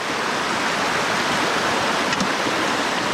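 River water rushes where a big creek joins the Raging River, a dense, steady roar of flowing water, close and loud, with no voices.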